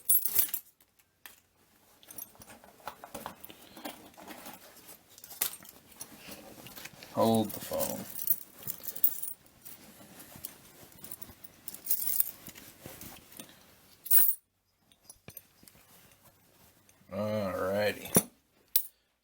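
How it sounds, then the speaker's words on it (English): Keys jangling as a trouser pocket is emptied, bright metallic clinks and rattles in scattered bursts close by, with a brief buzzing tone near the end and someone speaking now and then. "in my front left pocket, that's where I always keep my keys"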